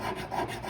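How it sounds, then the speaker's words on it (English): Sandpaper smooths a handmade jewelry ring in a steady, close, soft rasping rub of continuous back-and-forth strokes with no talking. "we're going to take sandpaper to it to smooth it out and get all the marks out"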